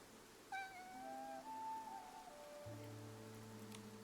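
A cat passing by in the video game Infinity Nikki gives a short, faint, wavering meow, with soft rain ambience and low tones around it.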